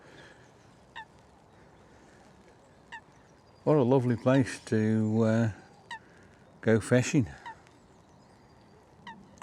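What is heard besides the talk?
duck calling on a lake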